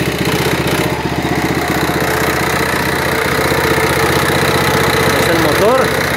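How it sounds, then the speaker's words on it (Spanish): Engine of a winch hoist running close by, a loud steady rumbling idle with a regular beat throughout, with a voice briefly heard over it. "Es el motor."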